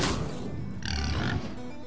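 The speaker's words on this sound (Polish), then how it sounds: "Świnia." A short pig oink and grunt effect from the card game Hearthstone plays once amid game sounds, with a brighter squeal-like burst in the middle.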